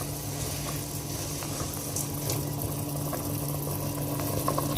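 A pot of rice with pigeon peas and smoked bacon at a steady boil, giving a continuous soft bubbling and simmering wash with a low hum beneath and no talking.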